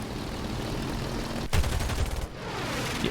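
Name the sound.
BF 109 nose 7.92mm machine guns firing, video game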